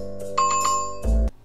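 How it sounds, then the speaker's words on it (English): A bright bell-like notification chime rings twice in quick succession, clear tones with a short ringing tail, standing alone without speech, as a sound effect at the close of a mukbang cookie-eating clip. "Hit that notification bell."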